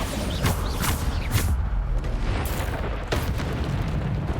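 Bombarda spell explosions in Hogwarts Legacy, a series of heavy booming blasts with crackling debris and rumbling tails, loud and close, following each other within a few seconds.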